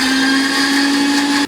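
A blender grinds chopped ginger into a paste, running loud and steady with a high, constant whine before switching off abruptly near the end, with no talk over it.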